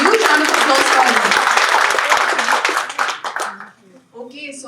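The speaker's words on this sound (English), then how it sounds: "Huge round of applause for him." A seminar audience applauds loudly with dense, sustained clapping that thins out and fades toward the end, as a voice starts speaking.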